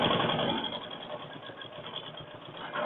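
An electric sewing machine runs steadily while stitching a men's shirt, producing a close, continuous whirring hum throughout with no talking.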